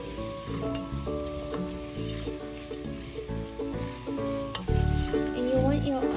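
Onions frying in a pan for vegetable fried rice over a medium flame, a steady sizzle under layered background music, with occasional stirring.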